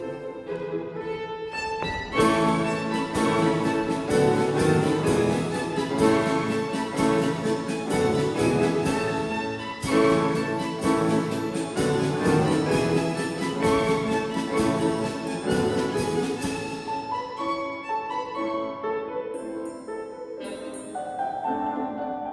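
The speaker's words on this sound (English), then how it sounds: "Janitsscharen music left many impressions with sounds like this" A Janissary-style Turkish military band piece, played by a spa orchestra, rings out as dense, full ensemble music with bright, sustained tones and steady percussion, thinning out toward a softer close.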